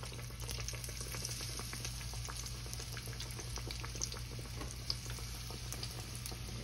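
Battered yellow squash tempura fries in hot grease with a constant crackling sizzle and scattered small pops, steady and close, with no talk.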